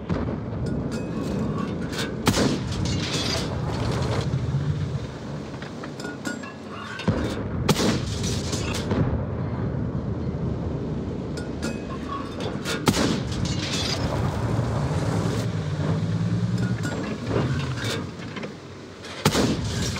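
Tank cannon shots in a tank video game boom out as several loud, heavy blasts over a continuous rumbling engine and battle din, with no talking.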